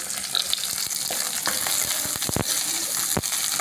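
Ginger sautés in a pan of vegetables for a ridge gourd dish, a steady close sizzle punctuated by sharp crackles and a few spatula knocks, with no one speaking.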